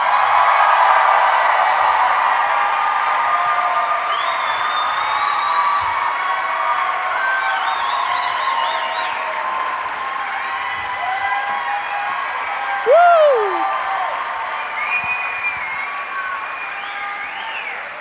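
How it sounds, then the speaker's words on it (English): A large crowd at the Salt Lake Comic Con 2014 panel applauds and cheers in a loud, sustained roar, with whoops and whistles rising above continuous clapping as a guest is welcomed on stage. "Salt Lake, let's give a big round of applause for the one, the only, Miss Barbara Eden"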